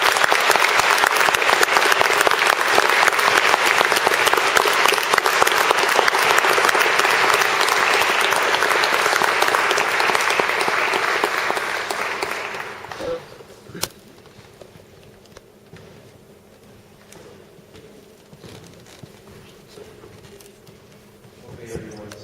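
An audience at a Cornell University event claps loudly and steadily for about twelve seconds, then the applause fades to scattered claps, quiet room noise and faint voices.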